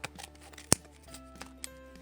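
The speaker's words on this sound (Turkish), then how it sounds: "Zaten sürpriz paket makasla açıyor" Scissors make one sharp snip while cutting open a surprise toy package, a crisp close click set among quieter rustling and faint tapping.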